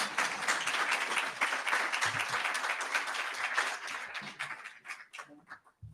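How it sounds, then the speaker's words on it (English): A live audience at a panel event applauds its moderator with a dense, steady roar of many clapping hands for several seconds, then the clapping thins out into scattered individual claps and dies away. "Let's give our moderator a big round of applause."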